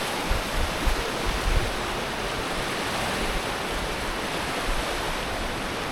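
The Kant River in Tajikistan rushes in a steady, loud broadband roar of fast-flowing water, constant and close with no voices.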